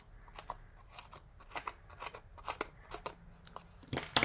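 Scissors snipping paper dimensionals for a pumpkin craft kit, a run of quick close crisp cuts in an irregular rhythm, ending with a louder rustle and snip.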